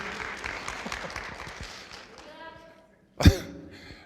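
Scattered audience applause at a campus panel session, fading out over a few seconds, then a sudden close thump or cough after a brief hush.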